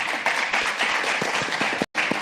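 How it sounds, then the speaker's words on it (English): Seminar audience clapping for a panel, a short steady patter of applause broken by a momentary dropout. "Please give them big applause"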